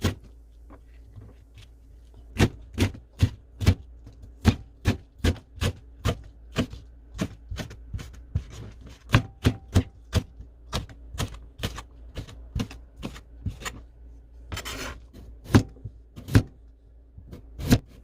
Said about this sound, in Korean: 청경채 한 개를 밑둥을 잘라내고 가늘게 채 썰어줍니다.